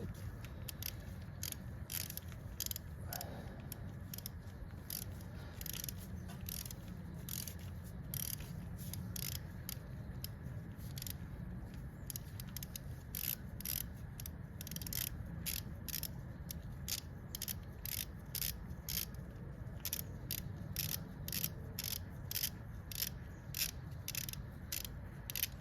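A 14 mm bracket bolt comes off a 1997 Toyota Tacoma 3RZ engine with a ratchet wrench, heard as a long run of rapid, even clicking. The clicks are quiet and close, with no talking.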